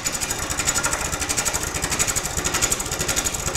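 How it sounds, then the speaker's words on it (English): A lathe tool scraping the outside of a spinning walnut bowl, a loud, close, rapid rhythmic chatter with a steady motor hum underneath. "It's more of a scraping cut off the side of the tool."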